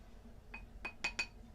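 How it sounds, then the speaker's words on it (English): A whisk stirs dry muffin ingredients in a bowl, giving four faint, quick glassy clinks close together against the bowl's side over a quiet background. "Kind of sifting it with the whisk here."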